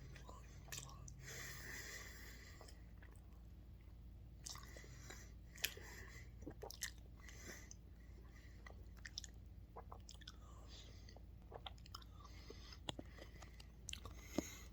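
Someone eats chewy pandan coconut mochi from an Asian market, producing quiet, close, soft sticky chewing and small mouth sounds throughout, with faint low background hum.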